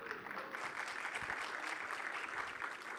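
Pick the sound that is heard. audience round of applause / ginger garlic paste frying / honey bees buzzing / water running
audience round of applause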